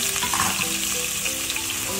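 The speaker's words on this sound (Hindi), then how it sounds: "इनको हम अच्छी तरह से भून देते हैं" Chopped medium onions frying in oil with crackling cumin and red chilli, giving a steady, close, loud sizzle with faint stirring scrapes and no voices.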